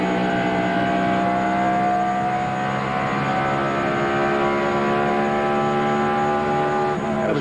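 A NASCAR race car in the 2000 Pennzoil 400 roars past at a distance, its engine a continuous loud drone with slowly shifting pitch and no talk over it.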